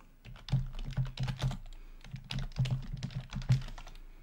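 A computer keyboard is typed on to enter a terminal command, with quick clusters of close, clicky keystrokes in two bursts separated by a brief pause.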